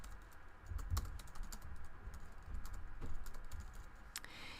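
Typing on a computer keyboard while editing a wiki page, a quick irregular run of light key clicks with a couple of louder taps, close but fairly quiet, no talking.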